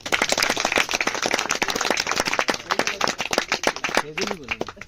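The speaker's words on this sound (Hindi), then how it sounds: "ताली बजाओ सब।" A group claps hands for someone being honoured at a Rajasthan Police selection gathering. The clapping is dense, loud and irregular across the whole stretch, with voices talking over it, and it thins out near the end.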